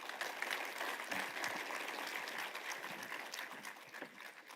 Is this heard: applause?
yes